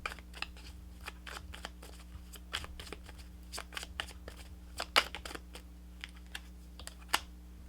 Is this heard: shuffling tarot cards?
yes